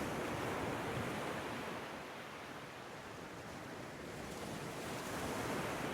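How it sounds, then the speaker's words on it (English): Ocean surf rolls in a steady, full wash of broadband noise, swelling slightly at the start and end, with no voices. "The sound of the ocean fills your being"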